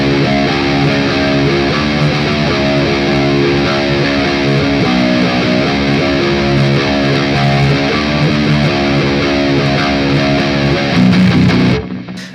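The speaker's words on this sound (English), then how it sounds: "now he's just playing it without palm muting, and it sounds like he's just playing just that one string, the 7th string" Heavily distorted electric guitar riff played on the open low seventh string without palm muting, ringing and chugging steadily, loud and continuous before cutting off abruptly near the end.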